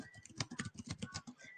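Fingers tap rapidly on a computer keyboard while a questionnaire is being filled in, giving a soft, quiet, steady patter of clicks with no talking.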